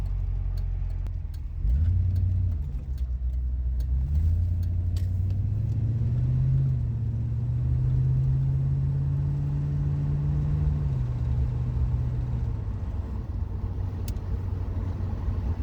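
A steady rumble from an old Corvette engine as the car drives, with revs rising and falling through the gears, loud and close from inside the cabin, with no talking.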